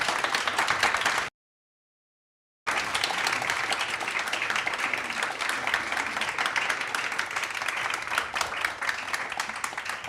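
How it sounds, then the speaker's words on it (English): Sustained applause from a large conference audience for a climate panel, dense and even, briefly cut off by a moment of silence before the clapping resumes just as strong. "Can we give our panelists a round of applause, please?"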